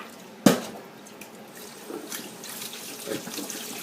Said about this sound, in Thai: เปิดน้ำก๊อกธรรมดาเท่านะคะ หรือจะเป็นน้ำเย็นจัดก็ได้